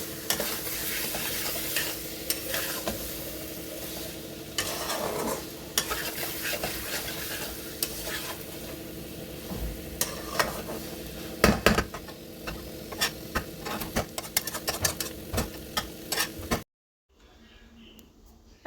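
Sankar fish kasha curry sautéing in oil, a long steady sizzle broken by repeated scrapes and clinks of a spatula stirring against the pan, cutting to near silence at the end.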